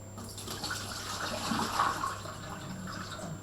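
Water is carefully poured out of a container during a capacity measuring activity, a soft, continuous trickle and splash that stays faint and steady throughout.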